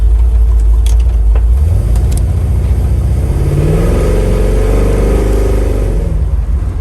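A 1964 Chevrolet Chevelle engine revs up loudly and accelerates, its pitch climbing steadily as it pulls away, close by with no talking.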